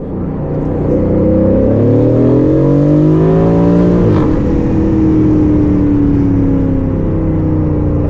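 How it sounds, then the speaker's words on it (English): Nearly 100 Aston Martins, from early classics to new models, on a parade lap at Silverstone, loud engines droning and revving close by as several cars sweep past with overlapping pitches and rising, falling tones. "Surrounded by nearly 100 Aston Martins, from early classics to the brand new models"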